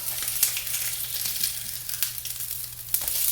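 An egg fries in a pan, giving a steady, close hiss and crackle of hot oil with small pops throughout, the sizzle continuing as it is flipped.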